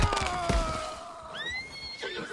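A horse in the video game Red Dead Redemption 2 whinnies loudly with a rising then falling squeal, with a few hoof thuds at the start.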